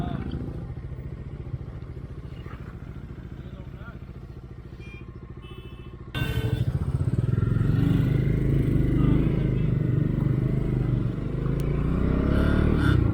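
Motorcycles, including a Bajaj Dominar 400, ride along a road on a trip from Delhi to Kedarnath, with a continuous engine drone that grows louder midway, plus wind rush and rattling.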